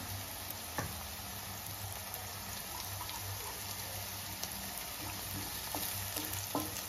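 Onions and fennel seeds frying in oil in a pan for chicken sherva, with a steady low sizzle and a few soft stirring clicks, fairly faint and alone.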